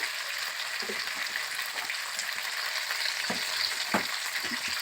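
Spice masala frying in a pan for a broccoli curry, an even, close sizzle throughout with occasional soft knocks and scrapes of stirring.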